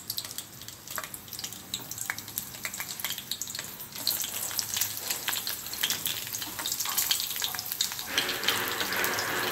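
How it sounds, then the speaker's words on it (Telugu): Green chillies frying in about two spoons of hot oil in a pan on a stove, a close crackling sizzle with sharp spits that grows busier and louder partway through. "ఆయిల్ వేడైన తర్వాత పచ్చిమిరపకాయలు వేయించుకోవాలి"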